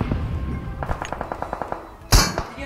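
PUBG Mobile gunfire cracks out as a steady run of about a dozen evenly spaced shots, followed by one louder, heavier blast near the end.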